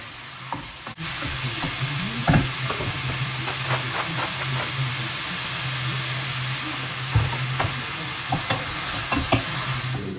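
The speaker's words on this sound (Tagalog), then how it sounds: "malapit ko na maluto yung aking minodo" Menudo sizzles in a pan with a continuous frying hiss, broken by intermittent scraping and clacking stirring strokes, close and steady with no voices.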